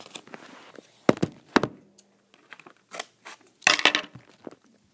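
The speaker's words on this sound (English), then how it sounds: "Just cut a crease like that so that you have somewhere to start with your scissors." Scissors snip through creased paper in several short, crisp cuts with brief pauses between, the last burst of cutting louder and denser; no talking.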